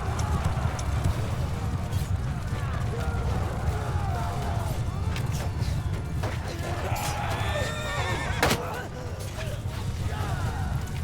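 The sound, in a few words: horses running in combat in the video game Mount & Blade II: Bannerlord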